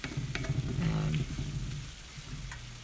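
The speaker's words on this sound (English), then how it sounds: "we're just going to mix this up and let it get good and thick" A thickening flour mixture is stirred in a pot over heat with soft sizzling and scraping, close and fairly quiet, with a faint low voice in the background.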